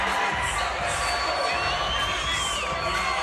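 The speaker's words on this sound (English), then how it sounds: "Chelsey Anderson doing her part to whip this crowd into a frenzy, get them fired up here." A boxing arena crowd at the DMG Night of Champions III event cheers and roars loudly and steadily, with whistles and shouts rising above the dense noise.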